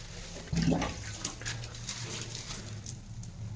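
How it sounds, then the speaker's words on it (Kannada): A can of water is tipped into a drain at a plastering job site. A sudden splash is followed by a few seconds of quick gurgling and rushing as the water is pulled away, fairly faint, with no voices. "ಇದರಲ್ಲಿ ಒಂದು ಡಬ್ಬ ನೀರು ಇತ್ತೀನಿ ನೋಡಿರಿ ಅಷ್ಟೇ ಜೀ ಅಂತ ಎಳೆದು ಬಿಸಾಕ್ಬಿಡ್ತದೆ"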